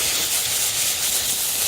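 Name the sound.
sausages braising in a pan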